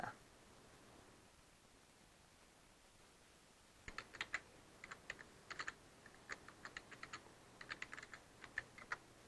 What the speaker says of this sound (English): I can just type in my URL